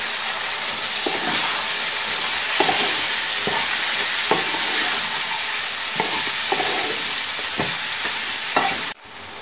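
Constant hissing sizzle of spice paste with sugar and green peas frying in a pan, broken by regular scrapes of a spoon stirring, ending with a sudden drop in sound.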